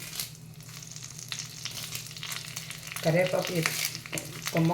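Curry leaves fry in a hot pan for nalla karam spice powder, sizzling and crackling close by, with louder spattering bursts toward the end.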